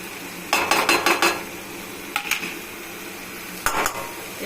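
Taro greens with salt, turmeric and Kashmiri red chilli powder stirred in a pan, with a rapid run of scraping spoon strokes, then a pause, a few lighter strokes and a final pair, all close and clear over a faint sizzle.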